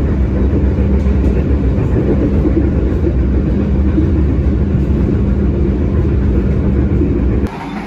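The Argo Wilis passenger train runs straight through Lempuyangan station with a loud, continuous low rumble and rolling wheel roar, heard steadily from onboard before the noise drops suddenly at the end.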